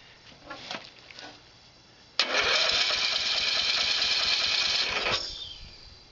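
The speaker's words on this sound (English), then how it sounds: "then I'll fire it up and see if it actually starts" A small engine on a Murray riding mower cranks with a few sputters, then catches and runs at a steady buzzing roar for a few seconds before winding down.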